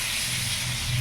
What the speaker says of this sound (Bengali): এবার একসাথে আমি ভেজে নেবো, বেগুনটাও একটু ভেজে নেবো